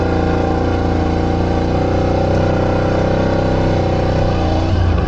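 A car drives through a village with a steady, loud engine hum and road rumble throughout, close and unbroken, with no talking.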